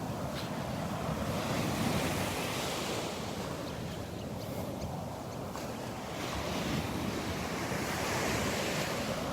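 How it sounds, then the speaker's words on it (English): Steady ocean surf rolls in at Delnor-Wiggins Pass beach on a windy morning, a continuous broad wash of breaking waves with wind buffeting the microphone and no voices. "The waves are beautiful, but I think they'd be hazardous to his health."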